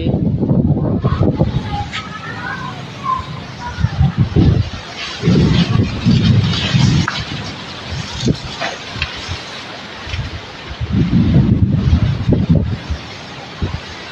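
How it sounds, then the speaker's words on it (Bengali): Cold gusts of wind before a summer storm buffet the microphone outdoors near palm trees, roaring in loud, uneven surges that rise and fall over the whole stretch. "ঠান্ডা বাতাস দিচ্ছে"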